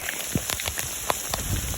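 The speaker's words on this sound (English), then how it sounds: "Here comes the hail." Hail pelts down on a trail along the Continental Divide, a dense steady patter of hard ice striking the ground and gear nearby with a few sharper individual hits, no voices.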